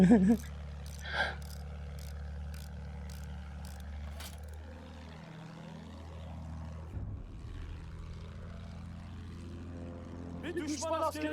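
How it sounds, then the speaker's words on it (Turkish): A bomber plane droning through the sky in Battlefield 1, its propeller engine hum holding steady and then swooping in pitch as it passes close, with brief game effects at the start and end. "Bombardıman tayyaresi."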